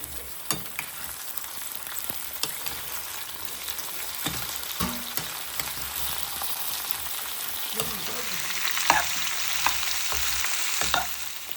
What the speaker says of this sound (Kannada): ಈಗ ಇದು ಎಣ್ಣೆಯಲ್ಲೇ ಫ್ರೈ ಮಾಡೋಣ ಬದನೆಕಾಯಿನ